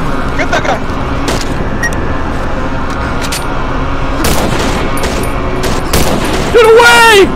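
Gunfire in the horror video game Cry of Fear rings out as loud, repeated shots over constant game noise, with people shouting to each other throughout.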